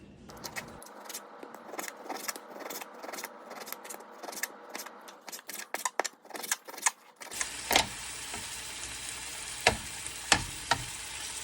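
Beef chunks browning in a pan on the stove crackle and pop in irregular bursts, then settle into a louder steady sizzle with sharp spatters, close and without talk.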